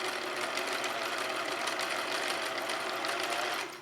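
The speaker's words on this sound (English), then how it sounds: "Okay, another zigzag stitch, which helps the stretch" Sewing machine running a zigzag stitch through bedsheet fabric while making a shirt, a steady mechanical whirr and rapid needle chatter heard up close, continuous for several seconds before easing off at the end.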